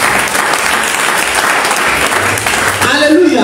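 A church congregation applauding during a sermon, loud sustained clapping from a crowd that fills the room, with voices calling out under it and fading toward the end.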